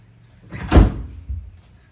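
A door in a home closes with a single solid thud, preceded by a soft swish of movement and followed by a faint settling knock.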